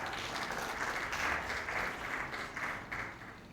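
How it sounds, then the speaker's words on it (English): Applause from a seminar audience at a tax clinic welcoming a commissioner, a moderate wash of many hands clapping at a steady pace, fairly distant and soft. "Please give him a big hand clap."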